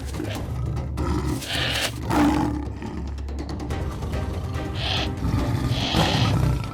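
Lion roaring loudly and continuously as it lunges to attack an impala, deep rumbling growls with sustained snarling bursts, close and forceful throughout.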